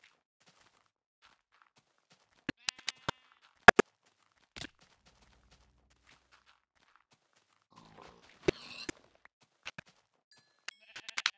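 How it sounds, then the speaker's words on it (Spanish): Sheep bleating in Minecraft on Xbox 360, a few short separate calls spread across a quiet stretch with scattered clicks and footsteps, fairly faint and with no talk. "Oveja."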